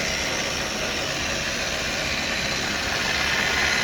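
A 24-inch Arboga Maskiner E830 geared drill press with power down feed runs in high gear at 890 RPM, making a steady, loud mechanical whir and hum without a break, and no one speaks.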